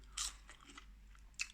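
Crunchy bites into battered frozen onion rings, two sharp close crunches about a second apart with softer chewing crackle between them.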